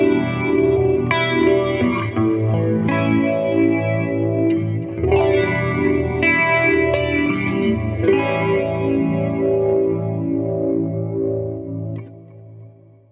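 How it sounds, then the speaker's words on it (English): An electric guitar plays sustained chords through a Valvetrain amp preset stacked with effects, shimmering with chorus, light distortion and echo, loud and continuous before fading at the end. "Our next preset has a lot of effects, so you can hear how this sounds with plenty of effects."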